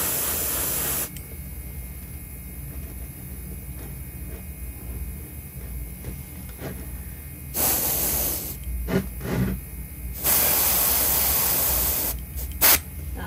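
Short bursts of airbrush spray shade a custom Hinkle Trout fishing lure: a faint background hiss is broken by several close, sharp hissing blasts of varying length, with no one talking.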